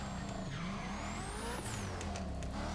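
A high-performance car in the racing game The Crew Motorfest revs loudly, its engine pitch rising and dropping through gear shifts, with bursts of tire squeal. The sound is steady and dense with no talking over it.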